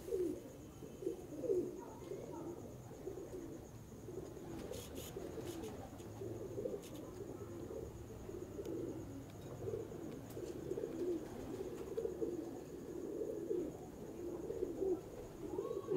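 Pigeons coo softly and continuously nearby, a low murmuring chorus with faint background noise.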